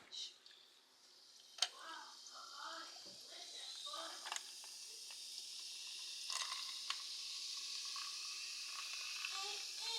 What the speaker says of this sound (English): now we're gonna pour the soda in